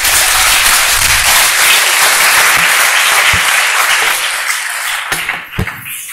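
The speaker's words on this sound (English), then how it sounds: "Big round of applause for Anshul Khadwalia." A large audience applauds loudly and steadily, the clapping thinning out toward the end with a few scattered claps.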